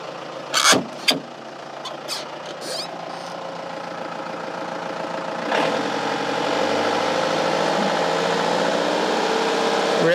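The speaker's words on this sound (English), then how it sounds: "Let me go and rev it a little bit and just see what it goes to." A car engine starts with a few sharp clicks and knocks, settles into an idle, then rises to a steady, louder raised-rev hum that holds to the end.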